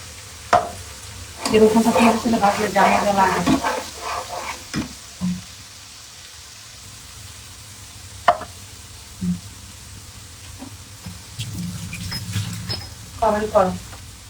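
Garlic paste sizzles and fries in a pan at night while plum pickle is prepared, with bursts of stirring and someone talking over the cooking at moments.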